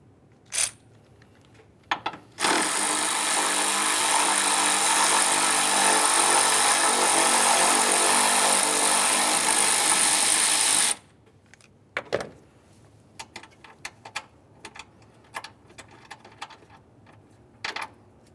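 A power tool spins out a 13mm mounting bolt on a 2015-2020 Ford F-150 3.5L V6 radiator and cooling fan assembly, a loud continuous whir lasting about eight seconds, framed by clicks and clanks of handling.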